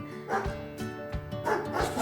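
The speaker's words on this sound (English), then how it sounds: "Check out these dogs, see?" Dogs bark in short, yappy bursts, several quick woofs spaced a moment apart, fairly close and clear.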